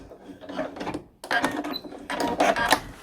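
A sewing machine back-stitching a seam on a pillow case, with close mechanical whirring and clicking in two runs split by a short pause, fairly quiet.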